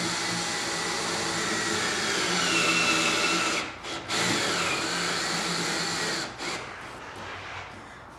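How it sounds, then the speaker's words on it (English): Steady whirring of a power drill driving screws into a diamond plate access panel on a Club Car DS golf cart, running continuously, with two brief pauses and a slight drop in pitch near the end. "put the screws directly through the body"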